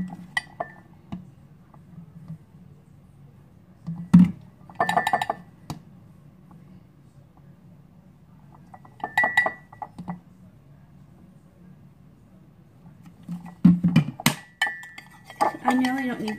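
A spoon stirs creamer into a cup, giving a few separate bursts of light clinks against the ceramic over a low steady room hum, fairly close.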